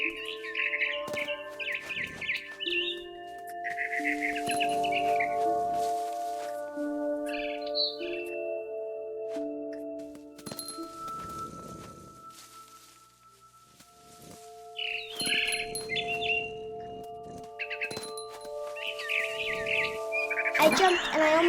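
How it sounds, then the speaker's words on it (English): Birdsong from the video game What Remains of Edith Finch: bright repeated chirps and warbling trills in short bursts, clear and fairly close, over quiet ambience with low tonal game music. "I tried to be quiet, but the bird was really scared."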